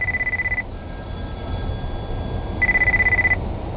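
A telephone rings in two pulsing bursts separated by a pause of about two seconds, clear and close with a low background hum between the rings.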